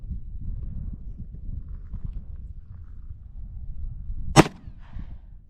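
One sharp, loud report from a Colt Python .357 Magnum revolver rings out alone near the end, followed by a short fading echo, after a stretch of quiet outdoor background rumble.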